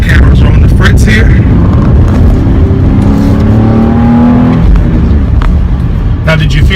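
A Hyundai car taken quickly through a corner, its engine droning loud and close with a rising rev under continuous talk from inside the cabin.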